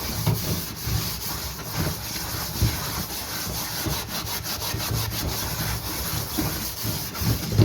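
An old aluminum pot is scrubbed with soapy steel wool in steady, rhythmic rubbing strokes, a close, continuous scraping that rasps on without pause and no voices.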